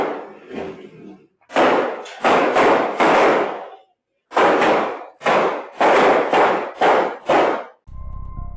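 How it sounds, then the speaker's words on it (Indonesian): Gunfire is exchanged between police and motorcycle thieves in North Lampung, captured on CCTV as a series of loud, booming shots, some spaced apart and others in quick clusters, ending abruptly. "Video CCTV ini merekam jelas suara baku tembak"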